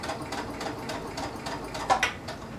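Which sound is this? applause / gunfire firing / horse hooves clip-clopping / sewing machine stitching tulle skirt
sewing machine stitching tulle skirt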